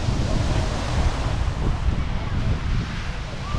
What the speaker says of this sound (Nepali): ठुलो छाल आएको